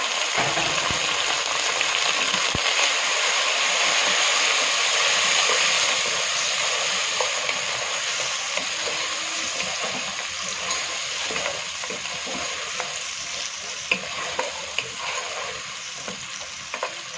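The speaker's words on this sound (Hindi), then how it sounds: "अब यहाँ पर बीफ की हम अच्छे से भुनाई कर लेंगे ताकि जो बीफ का टेस्ट है वो इन मसालों में डेवलप हो जाए" Beef being fried and stirred with cumin and spices in a pot for beef yakhni pulao, a loud steady hissing sizzle with occasional spoon knocks and scrapes, close up and without talk.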